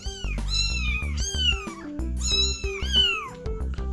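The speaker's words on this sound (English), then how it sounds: "His little baby kitties." Three-week-old rescue kittens meowing, several high, rising-and-falling cries in quick succession, close and clear over a steady low musical background.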